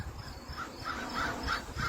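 Crows cawing outdoors, a quick series of about five harsh caws in a steady rhythm, moderately distant and fairly faint over low background noise.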